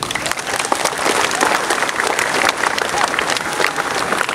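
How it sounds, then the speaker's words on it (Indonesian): An audience at a scouting orientation opening ceremony claps steadily and densely for several seconds, a full, even round of applause with no speech over it. "Kita tepuk tangan dulu."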